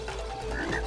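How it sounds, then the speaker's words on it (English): Frog croaking in the video game It Takes Two, a short run of close, fairly loud croaks standing alone against a faint background. "Frog."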